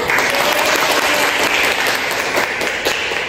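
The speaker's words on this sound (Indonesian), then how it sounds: "tepuk tangan" Applause fills a lecture room right after a quiz's top score is announced, a steady dense wash of many hands clapping together, loud and close, holding level throughout.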